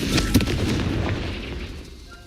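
A Confringo blasting curse exploding in the game Hogwarts Legacy: a loud, deep booming blast with a sharp crack at the start, then a rumbling roar fading out over about two seconds.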